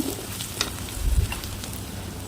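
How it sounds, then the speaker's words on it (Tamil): Long-cut large onion slices sautéing in a pan for a wheat rava chicken biryani, a soft steady sizzle with faint stirring scrapes, close and alone without talk. "நீல வாக்கில் கட் பண்ணி வச்சு இந்த மாதிரி வதக்கிக்கிட்டேன்"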